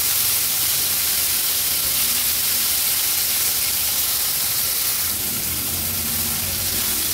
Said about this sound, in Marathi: हे बघा अगदी हाय फ्लेमवर व्यवस्थित हे परतून झालं आहे।